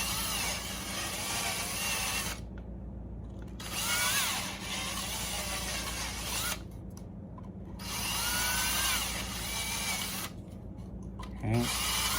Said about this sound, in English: I used a little bit smaller drill when I did this, and I forgot. I need to round them out just a hair.